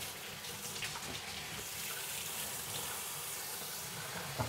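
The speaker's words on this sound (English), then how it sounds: "I'm letting you hear me wash my hands." Hands are washed under a running kitchen tap, with a steady, moderately quiet rush of water and faint splashing throughout.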